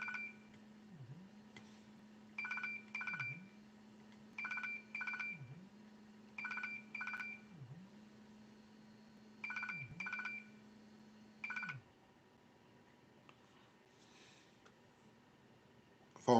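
Telephone keypad dialing tones for a call: several quick clusters of paired beeps spaced a second or two apart over a low steady hum, faint and close, with no speech.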